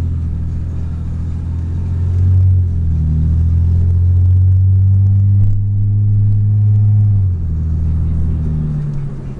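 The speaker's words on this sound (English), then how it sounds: "As an aftermarket exhaust, it's a little bit loud" A loud, deep aftermarket exhaust on a 2003 Mitsubishi Eclipse GTS V6 drones and rumbles steadily, swelling slightly in the middle before easing back, with no talking.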